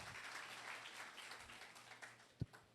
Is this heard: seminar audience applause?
yes